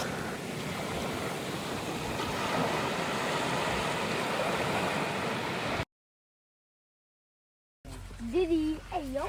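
Sea waves break and wash onto a windy Philippine shore in Bacon, Sorsogon, a steady loud surf with wind rumble, then silence, then a short burst of talking voices.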